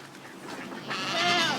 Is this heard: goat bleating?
yes